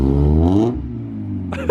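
Nissan S15 Silvia engine revving with an exhaust leak: a loud, rising harmonic rev that drops off around midway into a steady low idle rumble, with a brief sharper burst near the end.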